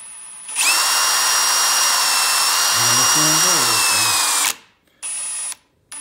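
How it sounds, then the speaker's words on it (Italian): A Parkside PSBSAP 20-Li B2 cordless drill spins up loudly and drills into wall plaster with a steady whine for about four seconds, then stops; a short second burst follows after a pause. "quando state iniziando a forare il primo strato di intonaco per essere centrati"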